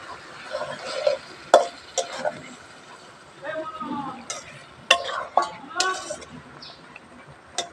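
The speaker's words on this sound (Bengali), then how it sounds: "আস্তে আস্তে করে নাড়াচাড়া দিয়ে নেবো" Eggplant and small dried fish are stirred in a pan, with scattered spoon and pan scrapes and clinks at an irregular pace, mixed with a speaking voice.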